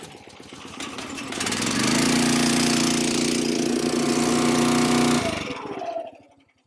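A Yardmax 35-ton full-beam log splitter's small pull-start gas engine rattles through a recoil pull, catches on the first try and runs at a loud, steady drone for several seconds before cutting off.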